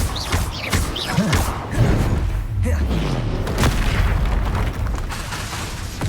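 Spell blasts and booming explosions in Hogwarts Legacy, loud, close impacts and bursts tumbling over one another amid continuous magical combat noise.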